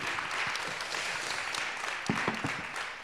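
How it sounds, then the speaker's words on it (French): An audience applauds speakers at the close of a talk on new ways of learning, a steady wash of many hands clapping at moderate distance with a few sharper individual claps near the end. "On peut les applaudir encore une nouvelle fois."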